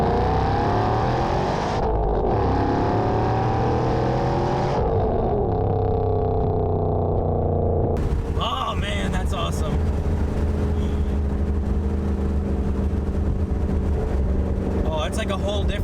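Ford Mustang GT500 with a 726 hp engine pulls hard in second gear from inside the car, the engine note rising through a long rev climb before a shift and continued loud acceleration, with voices talking over it.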